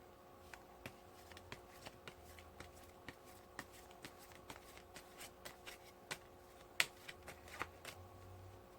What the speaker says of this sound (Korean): 추억 카드를 조금만 더 뽑아볼게요